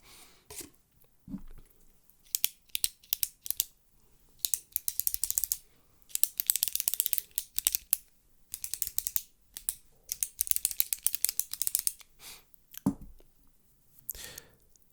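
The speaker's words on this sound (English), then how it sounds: "Let me show you what a pen sounds like." Fast bursts of scratchy pen strokes on paper, coming in quick clustered scribbles with brief pauses between them, close and fairly crisp.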